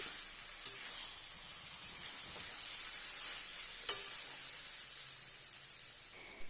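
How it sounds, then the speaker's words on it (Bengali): A steady soft sizzle and hiss comes from a pan of potato and cabbage curry on the stove, with faint scraping from stirring and one brief sharp clink partway through. "ভালোভাবে একবার নাড়াচাড়া করে নেব"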